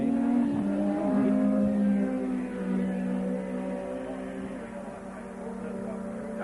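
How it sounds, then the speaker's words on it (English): A Formula One race car engine drones steadily on track with a strong harmonic whine, holding fairly constant in pitch and loudness, while a commentator's voice sits faintly beneath it. "Derek Warwick is slowing as he comes up to the line"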